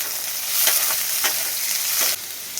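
Potatoes frying in hot oil with mustard paste and green chillies, a steady loud sizzle with a few stirring scrapes rising through it, close up and without talk.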